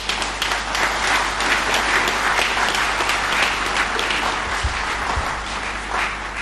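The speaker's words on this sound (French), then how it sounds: "Et ces applaudissements" Sustained applause from an audience at the launch of a national campaign, dense and steady clapping filling the whole stretch without pause, with no voice rising above it.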